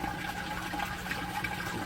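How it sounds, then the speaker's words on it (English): Water drains steadily out of a homemade grow bed through a 1-inch pipe, making a continuous rushing gurgle that stays close and even throughout. "1-inch pipe, all that water is coming right back out of the grow bed."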